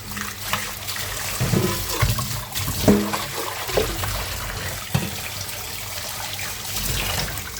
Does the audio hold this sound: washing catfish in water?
yes